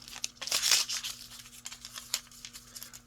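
Sticker being peeled off the packaging of TOZO hybrid noise-cancelling wireless earbuds, a close run of crinkly tearing and crackling sounds in short irregular bursts.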